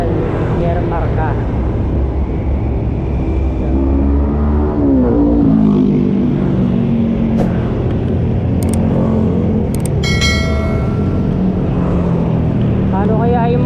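Loud, steady engine roar of motorcycles on the road, rising and revving, with a few sharp higher tones near the end.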